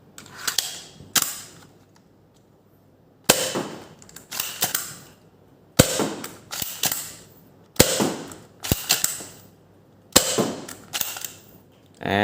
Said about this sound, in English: And the slide locked back successfully.